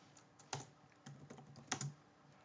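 A few quick keystrokes on a computer keyboard in Ubuntu 20.04, typed in small clustered bursts of clicks, close and quiet with no voices.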